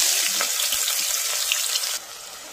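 Onions with whole spices and pepper sizzling in hot oil for chicken biryani, a loud close crackling hiss that suddenly drops to a softer simmer near the end.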